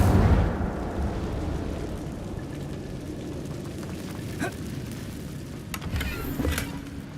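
Incendio fire spell cast in Hogwarts Legacy, a burst of whooshing flame at the start that settles into a dense rushing crackle, with sharp clicks and a brief flare near the end.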